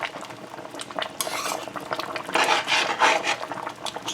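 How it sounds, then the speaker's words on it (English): A spoon stirs Guyanese metemgee in a cooking pot, making close scraping and rubbing sounds that swell and fade in uneven strokes, with occasional metal-on-pot clinks and no speech. "So we're gonna give this a stir."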